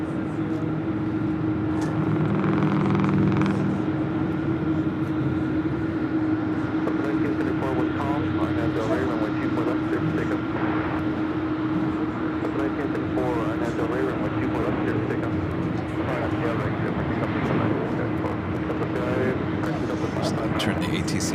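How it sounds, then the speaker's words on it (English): A Southwest Airlines Boeing 737-700 arriving from Denver gives a continuous jet engine roar with a steady hum, while people talk over it throughout. "Followed by Southwest Airlines flight 2075 coming in from Denver and a 737-700."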